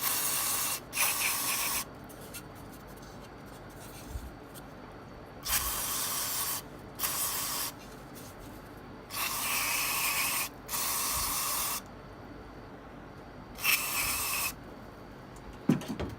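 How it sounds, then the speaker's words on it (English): Repeated bursts of aerosol sensor cleaner hiss onto a mass air flow sensor, some short and some sustained for over a second, separated by quiet pauses, close and fairly loud. "What you want to do is just spray it down really good,"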